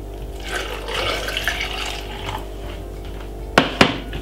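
Water pours steadily with a soft, splashing rush for several seconds, ending with a couple of sharp knocks.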